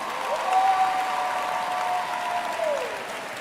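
A commencement ceremony audience applauds steadily, with sustained broad clapping from a large crowd and a faint held tone running beneath it, and no talking.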